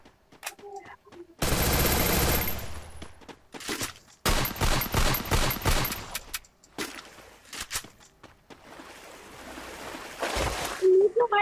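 Bursts of gunfire from the video game Free Fire, loud dense volleys in several separate rounds with short gaps between, plus scattered sharper shots; no talking during the firing.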